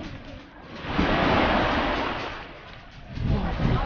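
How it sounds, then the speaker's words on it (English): Waves wash and break onto a beach at CocoCay island in a steady rushing surge that swells and recedes, with wind noise and no talking. "There's nothing like hearing the waves crashing onto the beach."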